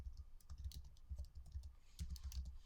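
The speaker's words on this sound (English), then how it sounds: "type in my URL" Keys tapped rapidly on a Mac computer keyboard while a web address is entered, a quick run of light clicks heard close and quiet over a low hum.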